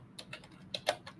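A short run of about eight crisp computer keyboard keystrokes sounds close up and at a steady pace, with no talking.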